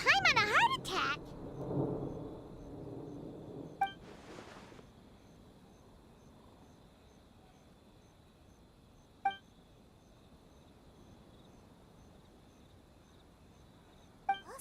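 Thunder in Genshin Impact, a deep rumbling roll at the start that swells twice and then fades into a quiet hush, broken by a few sharp, faint chime-like clicks.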